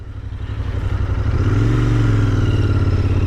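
A Royal Enfield Continental GT 650 motorcycle on the road, its engine a steady loud drone that swells and rises in pitch midway as it accelerates, with heavy wind rush throughout and no talking.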